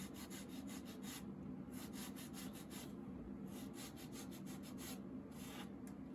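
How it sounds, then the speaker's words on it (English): A painted surface is hand sanded with light medium-fine grit sandpaper, giving quiet, steady back-and-forth rubbing strokes in a close, even rhythm. "I'm just going to use a little bit of a light sandpaper, probably a medium fine grit."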